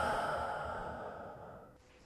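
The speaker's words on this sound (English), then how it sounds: "Let's breathe into that." A single long, deep exhalation, close and soft, trailing away into quiet at the end.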